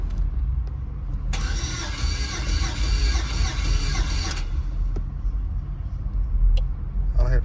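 A 5.3 LS engine with 243 heads in an El Camino starting for the first time: a whirring crank of about three seconds, then the engine catches into a low rumbling idle, close and loud.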